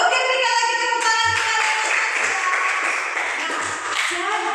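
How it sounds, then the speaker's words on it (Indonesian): Applause from a classroom or school audience, a dense patter of clapping filling a few seconds with some tonal ringing and voices mixed in. "Oke, berikan lagi tepuk tangan."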